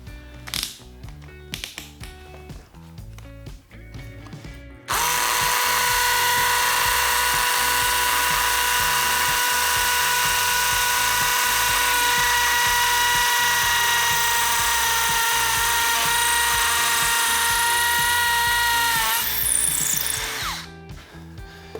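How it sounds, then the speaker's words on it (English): A drill fitted with a carbide-tipped masonry bit bores into a light concrete block, a loud steady whine and grinding that runs continuously for about fifteen seconds before winding down, preceded by brief handling clatter. "let's drill a hole and drive a screw into this concrete block"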